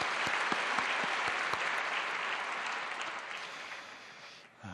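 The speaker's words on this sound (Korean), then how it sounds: "우리 감사와 함께 영광의 박수 올려드리겠습니다." Church congregation applauding after a choir performance on New Year's first worship service, a steady dense round of clapping that holds throughout and fades slightly near the end, with no talk over it.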